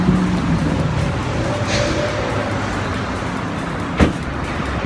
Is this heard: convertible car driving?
yes